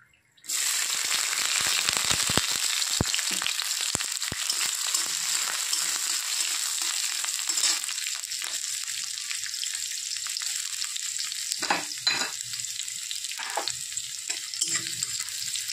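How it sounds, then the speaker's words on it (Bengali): Chopped garlic and green chili drop into hot oil with a dried red chili, bursting into a sudden, steady crackling sizzle that continues throughout, with occasional stirring scrapes and no talking. "রসুনগুলোকে একটু লাল করে ভেজে নিতে হবে।"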